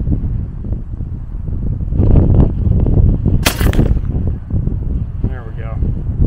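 A single sharp report from an AEA Zeus .58 caliber high-pressure airgun near the middle, loud and close, amid outdoor wind noise with murmured talk around it.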